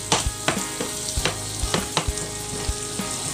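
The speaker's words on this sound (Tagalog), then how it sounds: "Tapos haluin, haluin ng mabuti" Egg and tuna frying in a pan, stirred briskly, with rapid rhythmic spatula scrapes and clacks over a steady close sizzle.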